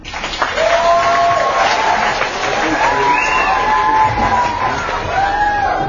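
An audience claps and cheers after a children's crew play, with steady applause, some whoops and shouts running throughout at a fairly close, even level.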